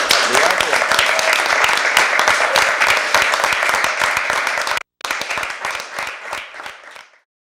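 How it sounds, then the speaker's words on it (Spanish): Audience applause for Mario Aguilar, Lista G mayoral candidate for Santiago, during a 2012 municipal election forum; crisp, loud clapping from a small crowd, cut by a brief gap, then resuming before thinning out and stopping. "Un aplauso a nuestro candidato."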